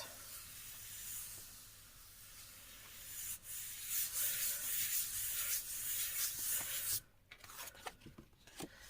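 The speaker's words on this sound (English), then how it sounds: "Just give this a firm rub down and a press, letting that Brusho absorb into the card." A card pressed onto a gel plate inked with Brusho is given a firm rub down, producing close, soft, scratchy rubbing strokes for several seconds before a sharp break and a few scattered handling noises.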